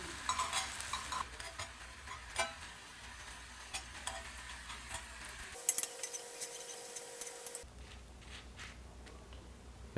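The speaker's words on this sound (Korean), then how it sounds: "이 마늘을 기름에 살짝 튀겨 줄 거예요." Garlic fries gently in a little oil in a pan, a soft steady sizzle with stirring scrapes and clicks. It drops to near silence midway, then resumes quietly; no one speaks.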